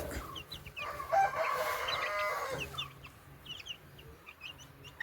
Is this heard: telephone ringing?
no